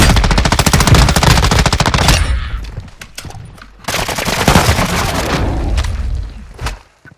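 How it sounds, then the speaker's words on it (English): Rapid automatic gunfire in a battle royale video game rattles loud and close in long bursts, then breaks into scattered single shots and shorter volleys before a brief quiet at the end. "We got shooting on our left as well."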